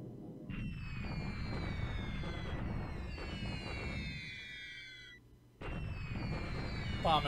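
Bombing explosions in a World War II strategy game, a dense rumbling barrage of low booms layered with whistling high tones that swell and cut out, then resume, loud and continuous.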